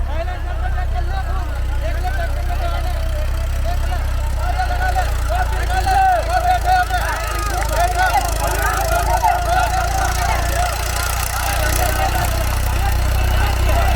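Low, steady rumble of an Eicher 333 or Sonalika 734 tractor engine pulling an 11-tine cultivator at a constant pace, with faint background noise over it.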